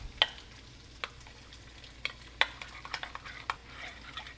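Udon carbonara with added pasta water being stirred in a pan, producing a quiet, irregular run of wet scrapes and soft taps from a utensil over a faint sizzle, close and alone.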